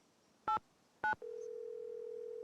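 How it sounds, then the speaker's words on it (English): Two short keypad beeps from a phone being dialled in a Nancy Drew mystery game, then a steady dial tone holds to the end, quiet and close with no voices. "Manually dialing 10-digit phone numbers."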